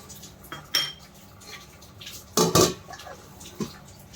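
Metal cooking pot of potato and soybean curry with clinking pans, ending in a sharp double clatter as the lid goes on. Small kitchen knocks fall between the louder hits.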